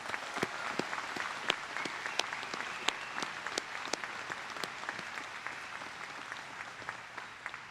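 Audience applause at a commencement ceremony, a dense steady patter of many hands clapping throughout with no talk over it.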